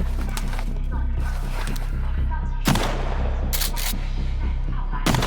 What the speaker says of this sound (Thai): ธนูหัวระเบิดอะ